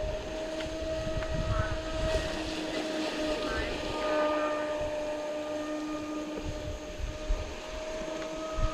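A Chaser 32 RC boat with a 1650kv TP motor whines steadily at a distance, with a sustained high motor tone and water noise, and some faint talk mixed underneath.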